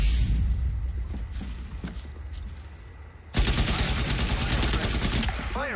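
Rapid automatic gunfire in a video game, a dense sustained burst that starts abruptly partway through after a quieter stretch of ambient game noise and carries on loud to the end.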